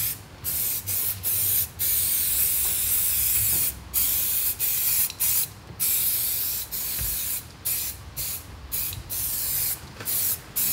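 Matte white scanning spray hisses from an aerosol can onto car parts of an RS4 Limo in a workshop, in a steady series of short, close bursts separated by brief gaps.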